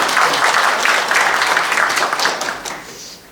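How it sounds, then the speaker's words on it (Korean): An audience at an anniversary ceremony and lecture in Busan breaks into loud, dense clapping with a faintly rhythmic pulse, holding steady before tapering off near the end. "열두 박수."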